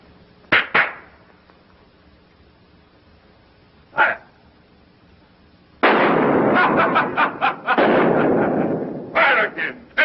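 Revolver shots ring out in a 1933 film scene, first two sharp reports close together, then a lone shot, followed by a loud burst of rapid firing and a final cluster of shots.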